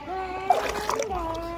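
A hand punches the water of a shallow swimming pool, making a couple of quick, close splashes while a voice speaks over them.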